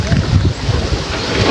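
A small boat moves on open water with wind, a dense, steady rush of water and buffeting microphone wind noise, loud and close, with no clear voices over the short stretch.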